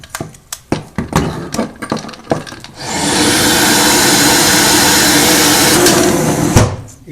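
A central vacuum hose is plugged into a wall inlet with an airflow meter after a few clicks and handling knocks, and a steady loud rushing suction roar then holds until the end.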